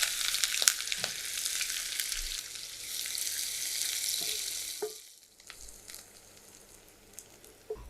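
Sliced onion sizzles in hot oil with cinnamon sticks and split cardamom pods. The hiss is steady and fairly quiet, with a few light spoon taps, and it softens partway through.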